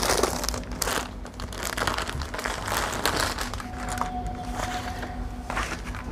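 A packaged fabric garment piece with printed fabric and handwork is unwrapped, its plastic crinkling and rustling continuously at close range for several seconds, with no talking.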